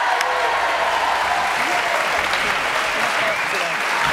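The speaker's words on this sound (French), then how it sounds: "Applaudissements" Loud, sustained applause from a studio audience at the start of a French television show, dense continuous clapping throughout.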